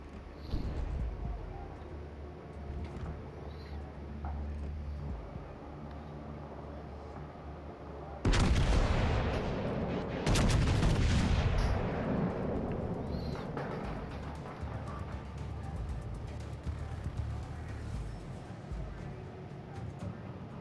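Main guns of the legendary battleship Louisiana firing in World of Warships Legends, two loud sharp broadband blasts a couple of seconds apart, each trailing off in a rumbling decay over a lower battle hum.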